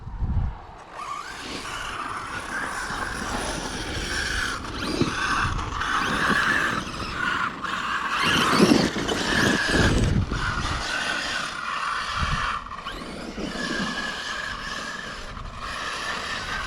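An Arrma KR8s EXB 1/5-scale RC car on a 12S setup whirs with the grinding, ratcheting clatter of a worn, beveled pinion and tired spur gear, fairly loud and continuous with surges of intensity.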